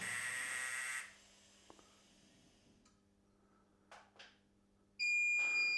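A TIG welder beeps while pairing with its foot switch: a loud tonal beep opens, a quiet stretch with small clicks and a couple of brief soft sounds follows, then a second loud beep sounds near the end.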